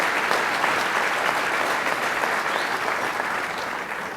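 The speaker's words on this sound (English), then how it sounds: "that deserves an applause for America" Audience applause at a political talk, loud and sustained clapping from a large crowd throughout, slowly tapering near the end.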